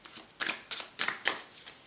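Tarot cards handled and laid out on a table, a series of five or six short papery swishes and flicks in quick succession, close and soft, with no voices.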